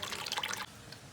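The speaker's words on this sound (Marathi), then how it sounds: "सगळं गाळून घेऊयात मिश्रण" Herbal hair oil mixture of sesame oil, kalonji oil and vitamin E being strained: a brief close trickling pour of liquid that stops abruptly halfway through.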